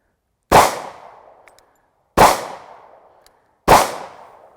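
Three loud, sharp gunshots from a Shield 9mm pistol at an outdoor range, spaced about one and a half seconds apart, each with a short ringing decay and silence between, no talk.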